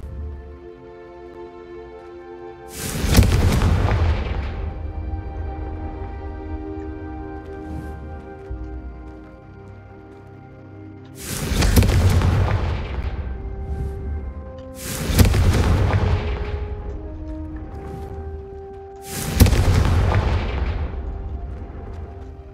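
Confringo spell blasts in Hogwarts Legacy: four heavy, booming explosions with long rumbling tails, spaced several seconds apart, set against a quiet game soundscape with a soft musical drone.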